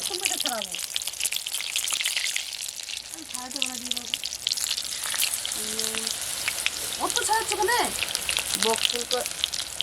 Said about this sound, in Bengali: আমি বক ফুলের বড়গুলো ভেজে নিচ্ছি গরম হয়ে গেছে তেল